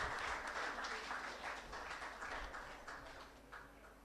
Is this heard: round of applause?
yes